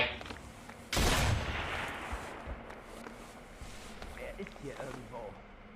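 A single sharp sniper rifle shot cracks out in Sniper Elite V2, loud and sudden, then trails off into a long fading echo while someone talks over the aftermath.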